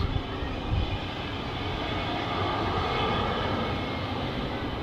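A fixed-wing aircraft taxiing out at an airport, a steady, even engine roar from some distance that stays level throughout, with no speech.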